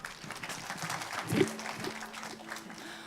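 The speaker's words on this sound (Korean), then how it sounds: "여러분 다시 박수로 부탁드리겠습니다" An audience applauds at a tribute music program before a band performs, moderate steady clapping with a faint murmur beneath it, rising briefly midway and then settling.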